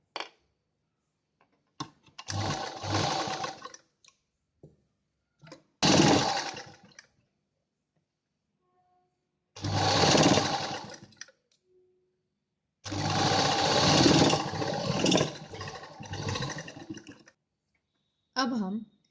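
A sewing machine stitches an A-line inner collar jacket dress in four separate bursts of close, loud whirring, with silent pauses and brief clicks of handling between runs.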